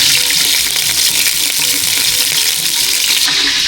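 Garlic being fried for pancit miki guisado sizzles loudly and continuously up close, a dense hissing crackle with stirring and no speech.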